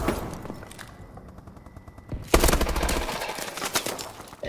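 Automatic gunfire in Call of Duty: Advanced Warfare, rapid bursts of close, loud shots, with a sharper, denser burst starting midway and continuing to the end.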